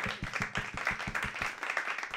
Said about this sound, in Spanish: Redante Chapo, un aplauso.